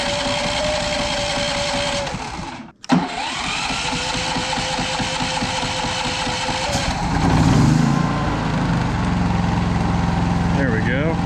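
A Westinghouse inverter generator engine runs steadily at close range, its even mechanical hum broken by a brief dropout partway through, then settling into a slightly louder, rougher drone; a person's voice is faintly present in the background.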